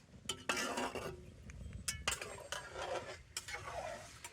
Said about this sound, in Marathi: हे छान हलवून घेऊयात आणि 1-2 मिनटं उकळी देऊन या.